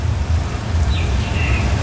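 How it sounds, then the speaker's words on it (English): An artificial rain effect at a Universal Studios attraction makes a steady, close hiss of falling water over a low rumble, continuous across the whole stretch. "It's a Hollywood style. it's raining. There's a rain."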